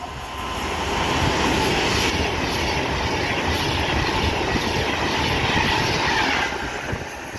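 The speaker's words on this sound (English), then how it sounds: "over here should be a Pendolino going from London Euston to Edinburgh Waverley" A Pendolino electric train on the West Coast Main Line at Wolverton runs from London Euston to Edinburgh Waverley, passing close by as a loud, steady rush of wheels and air. It swells within the first second, holds for several seconds, then begins to fade.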